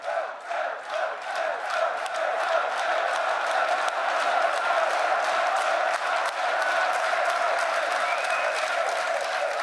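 Large esports arena crowd applauding and cheering a winning team, a dense, steady roar of clapping and voices that swells early and holds at full strength throughout, with no talk over it.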